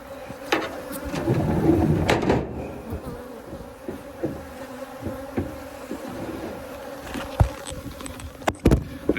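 Bees buzz around a buckwheat field outdoors, a steady nearby drone with individual insects passing close, accompanied by occasional birdsong and a few sharp knocks.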